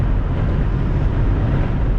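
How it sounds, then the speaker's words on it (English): Strong wind buffets the microphone outdoors with a continuous loud, low rumbling roar and no pauses. "Good Lord, it's windy."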